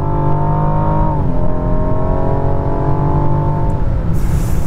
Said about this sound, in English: there under hard acceleration, there is quite a sufficient little grunt coming from the engine